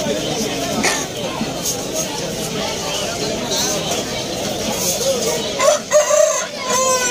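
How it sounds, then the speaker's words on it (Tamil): Fighting roosters crow amid the bustle of a weekly pet market, their calls rising over steady crowd chatter with a few clearer crows near the end. "இங்கே பாருங்க. எல்லா சண்டை கோழிகள்"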